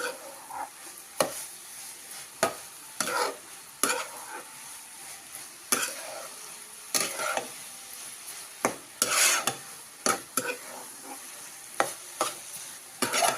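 A spoon stirs carrot halwa mixed with cardamom powder in a pan, making repeated dry scraping strokes at an uneven pace over a soft sizzle, close and fairly quiet, without talk.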